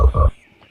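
Cartoon frog gives two quick, loud, low croaks in a row, then a faint trailing tail of sound.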